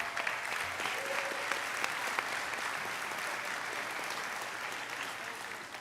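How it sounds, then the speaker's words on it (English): Steady applause from an audience at a high school senior awards night, dense clapping sustained at an even level throughout, fairly close and with no voices over it. "please hold your applause to the end"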